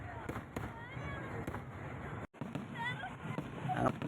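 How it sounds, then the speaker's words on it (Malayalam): Fireworks burst at a Vishu temple festival, the Cheramkulangara Vishuvela, in a dense, continuous crackle of bangs and sharp pops with one brief pause, while a crowd murmurs underneath. "ഒരു ദേശക്കാരൻ്റെ വെടിക്കെട്ടൊക്കെ പൊട്ടി"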